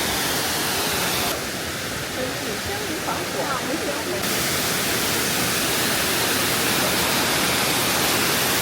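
A wide waterfall at Jiuzhai roars as a steady, dense rush of falling water, close and enveloping like heavy rain, with a person speaking briefly over it.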